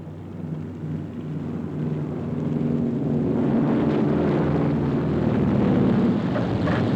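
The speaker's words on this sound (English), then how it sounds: "The planes themselves land at something like 100 miles an hour." A 1944 carrier-borne warplane landing on an aircraft carrier at about 100 miles an hour, a steady low engine drone that swells louder and rougher midway and holds close and strong to the end.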